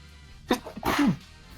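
A single sharp sneeze, a quick intake followed by a loud burst, close and alone.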